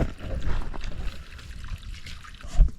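Water runs through a trough canal built as part of an outdoor house-building project, a steady trickling flow with low rumbling, heard alone at close range.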